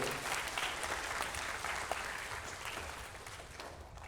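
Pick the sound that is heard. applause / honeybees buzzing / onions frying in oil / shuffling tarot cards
applause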